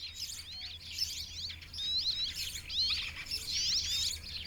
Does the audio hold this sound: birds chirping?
yes